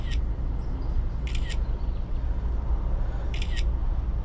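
Sharp camera shutter clicks snap a photo of a freshly caught Rio Grande cichlid beside a San Antonio creek: one click, a quick double, then another pair, each crisp and close over steady outdoor background noise.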